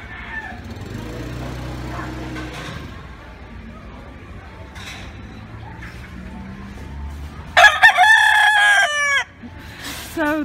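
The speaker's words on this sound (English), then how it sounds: "always wondered why I could hear the roosters and I couldn't see them." Caged roosters in Bali crow loudly and close by in a long, harsh call near the end, after a stretch of quieter background noise and low voices.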